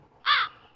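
A single crow caw sound effect played as an awkward-moment cue from a V8 sound card, short, clear and close, with nothing around it.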